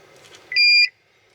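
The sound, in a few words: car key fob beeping during programming, Buick Enclave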